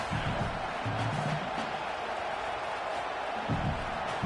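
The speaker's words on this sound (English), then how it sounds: "how nice is it to have the home crowd going absolutely bananas?" Home stadium crowd roars in an NCAA football video game, a dense, sustained wash of cheering with swells of louder shouts rising near the start and toward the end.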